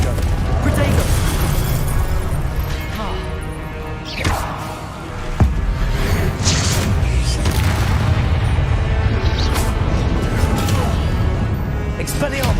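Repeated booming blasts and crackling bursts from Confringo and Incendio spells in Hogwarts Legacy pile up loud and near, almost without pause, while a voice shouts spell names over the din.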